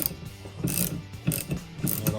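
Ratchet wrench working a tight 13 mm nut on the rear wiper of an Audi S3 8V Sportback: three or four bursts of close clicking pawl strokes in an uneven rhythm, with no talking.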